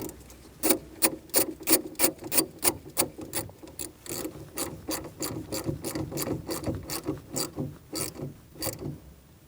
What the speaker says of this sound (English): Now you can put your negative on. And tighten that one down as well.